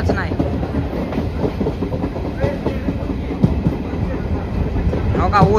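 Inside a railway carriage, a moving train rumbles steadily with a rhythmic clickety-clack of wheels over the track joints, along with faint voices and creaks in the background.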